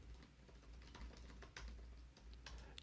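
Quiet, steady tapping on a computer keyboard, keystrokes clicking in an irregular run throughout, soft and fairly close with no voices.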